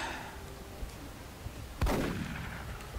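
A single sharp gunshot cracks out once in the XCOM Enemy Within video game, a sudden loud report with a short decaying tail, after near-silence.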